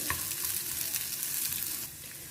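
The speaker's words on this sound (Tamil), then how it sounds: "இந்த வெங்காயம் வந்து கொஞ்சம் நல்லா வதக்கிக்கலாம் நம்ம" Small onions sautéing in a pan, a dense bright sizzle of hot oil with light stirring scrapes, steady and close, easing slightly quieter near the end, with no speech.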